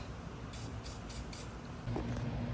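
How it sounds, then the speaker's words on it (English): An aerosol can gives a few short bursts of spray onto the negative battery terminal of a Jeep JK, hissing against a steady background noise. "But just a quick spray."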